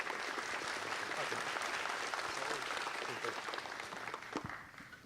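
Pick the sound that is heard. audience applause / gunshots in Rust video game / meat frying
audience applause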